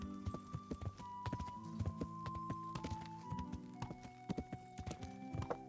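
Steady clip-clop of horse hooves in Kingdom Come: Deliverance trots along over a sustained musical drone, with an occasional whinny.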